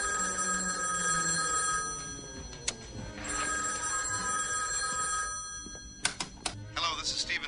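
A telephone bell rings in repeated bursts through a busy stretch of a stage play, with voices talking around it.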